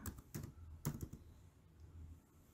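Quick, uneven clacking of fingers typing on a computer keyboard, soft and close, with a few louder key strikes among lighter taps and no talking.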